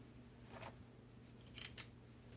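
Scissors snipping small strips at a workbench: a few faint, quick crisp snips, the clearest two close together near the end, over a quiet hum.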